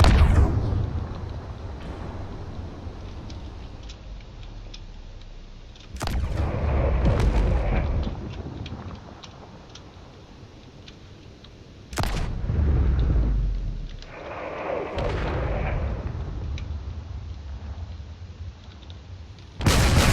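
Cannon shots in a drone combat game: a few heavy booming blasts spaced several seconds apart, each with a rumbling tail over a low steady hum, no talk.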